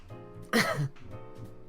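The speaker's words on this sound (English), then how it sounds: "As he coughs his lung out." A man gives a single harsh cough, short and close, with quiet breathing around it.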